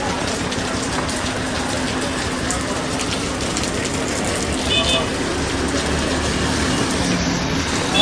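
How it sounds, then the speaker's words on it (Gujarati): Steady rain keeps falling around Dakor, a continuous broadband wash of drops and runoff holding at an even level for several seconds, fairly close and loud. "વરસાદ હજુ ચાલુ જ છે એમ"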